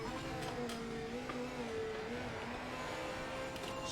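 Race car engines drone steadily in the Project Motor Racing video game, with GT3 and GT4 cars including a Porsche and a Mustang, the engine note rising and falling gently as the cars run, loud and continuous with no talk.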